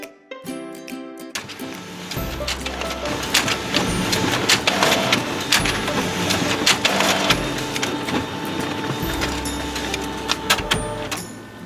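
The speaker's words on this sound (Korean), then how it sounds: "양면 인쇄 되었는지 꼼꼼히 확인하는" An office printer runs double-sided pages, giving a steady mechanical whir with rattling feed clicks and clatter that continues for about ten seconds, fairly close and with no talking.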